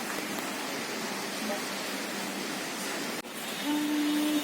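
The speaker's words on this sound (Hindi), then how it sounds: "अभी भी बारिश" Steady rain falls as a constant wash of noise, with a brief dip and a faint tonal hum near the end.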